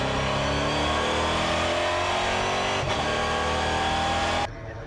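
Onboard engine of a NASCAR race car, loud and continuous at high revs with a steady rising whine, a brief dip near the middle, then cutting abruptly to a quieter level at the end.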